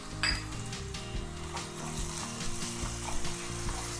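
Salted onions sizzle steadily in a pan for a paneer pasta, with occasional stirring clinks and a constant frying hiss throughout.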